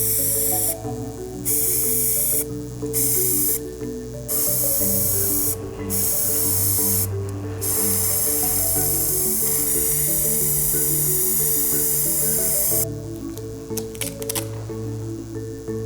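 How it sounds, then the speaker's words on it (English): Spray paint can hissing over a stencil with the trigger pressed heavily, loud continuous bursts broken by short pauses, with a constant low hum beneath. "using the spray can and being a little too heavy with the trigger"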